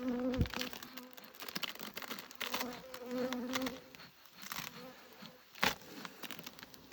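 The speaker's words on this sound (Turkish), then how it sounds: "arı giriş çıkışı oluyor gördüm" A dense buzzing of many honeybees at a hive entrance hovers close by, steady and continuous, with scattered faint clicks and rustles over the hum.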